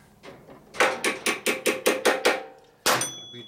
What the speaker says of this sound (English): Beat the wrench on over the nut.